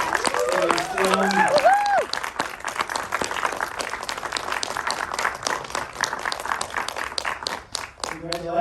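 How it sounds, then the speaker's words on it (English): Audience applause at a science fiction film festival Q&A in Sydney, dense steady clapping throughout with cheers and whoops rising over it early on. "round of applause going for Mr. TIBOR BAUMANN for his film."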